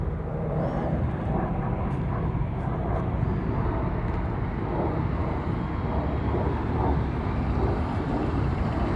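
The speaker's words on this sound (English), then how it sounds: "It's a plane taking off in the background." An airplane taking off near El Paso airport, a steady broad roar that holds evenly throughout, heard at moderate level with no speech.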